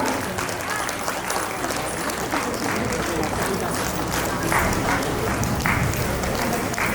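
An audience in a hall applauds in welcome of a guest at a birthday celebration, dense steady clapping lasting throughout, loud and close, with voices mixed in.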